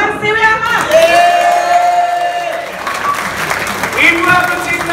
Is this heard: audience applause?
yes